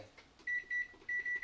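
An oven timer beeps in a home kitchen: a few bright electronic tones, first two short beeps, then a longer run of repeated beeps, close and clear over a quiet room.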